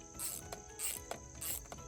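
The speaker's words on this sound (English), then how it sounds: "I'll take this bolt out" A hand ratchet clicks in short bursts while loosening a bolt on a GMC Yukon, three or four quiet, close rapid ratcheting runs separated by brief pauses.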